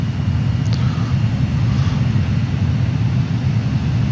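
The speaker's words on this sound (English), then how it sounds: "15 airplanes flying back and forth" Airplanes fly in the Transport Fever 2 video game, heard as a steady, loud, low engine drone that rumbles without break throughout.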